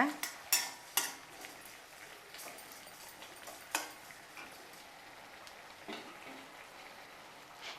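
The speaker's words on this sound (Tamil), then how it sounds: "உப்பு போட்டு நல்லா கிளறி விடுங்க." Chow chow koottu being stirred with salt in a cooking pan: a few sharp spoon-on-pan scrapes and clinks near the start and middle, with quieter stirring and faint sizzle between, no talk.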